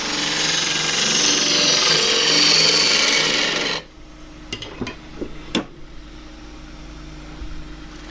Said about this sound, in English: I'll do that with a deep through bowl gouge with a 3/8.